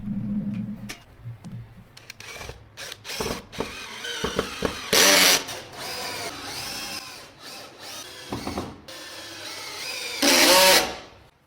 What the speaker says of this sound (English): I clamped it in place and attacked the bottom with some screws